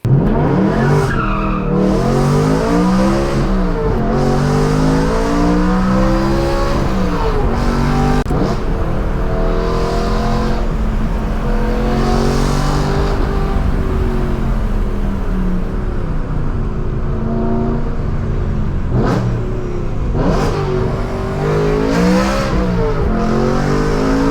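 A BMW E92 M3 driven on the road, its engine revving loudly and continuously, rising and falling through gear changes with repeated surges of acceleration close to the microphone.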